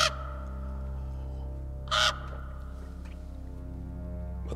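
A raven caws twice, one harsh caw at the start and another about two seconds later, loud and close over a steady low musical drone.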